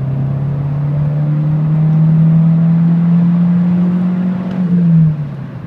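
A Stage 2 tuned VW Mk6 GTI engine drones steadily under load on a flat road at about 65 mph, a loud sustained hum that swells slightly, then drops away near the end.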